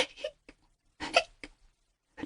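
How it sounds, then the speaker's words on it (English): A child hiccups in a quiet scene, giving several sharp, short gasping bursts with pauses between them, close and fairly faint. "Don't get the hiccups."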